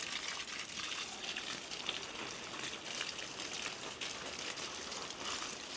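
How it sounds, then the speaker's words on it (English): Water pours steadily from a hose or can onto vegetable beds in a garden, a faint, continuous splashing and gushing with slight fluctuations and no voices. "Just continue watering."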